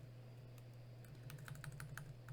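Keys clatter on a computer keyboard during a terminal hacking session, a quiet run of irregular clicks that quickens into a denser burst of taps over a low steady electrical hum.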